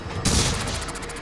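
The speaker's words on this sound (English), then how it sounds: "That exploded." An explosive canister in the video game Prey bursts with a sudden loud blast, then a bright crackling, fizzing tail and rapid debris pops that fade out over a second.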